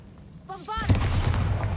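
Bombarda blasting spell cast in a wizard video game: a spoken incantation followed by a sharp, loud explosive boom that spreads into a rumbling, crackling wash of debris, sustained near and full to the end.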